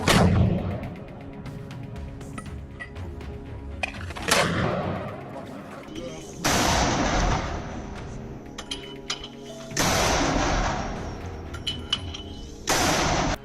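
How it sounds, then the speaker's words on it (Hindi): A rocket launcher fires rockets repeatedly from green vegetation amid combat in Gaza: four or five loud, roaring blasts spaced a few seconds apart, each trailing off into a rumbling hiss against steady background noise. "वो लगातार लॉन्चर में रॉकेट भरकर उन्हें दाग रहा है।"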